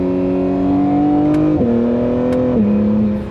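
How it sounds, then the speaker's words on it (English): An Acura NSX Type-S engine fitted with a downpipe and titanium exhaust drones loudly from inside the car, a steady tone that steps down twice as gears shift under acceleration. "I really like this downpipe and titanium exhaust setup."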